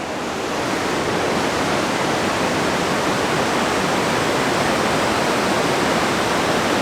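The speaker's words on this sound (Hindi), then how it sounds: "होटल के जस्ट पीछे ही है बहती हुई भागीरथी नदी" The Bhagirathi river flows just behind a hotel near Gangotri, a steady, loud broadband rush of water that holds constant from start to finish with no voices.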